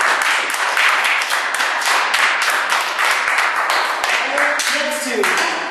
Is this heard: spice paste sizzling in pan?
no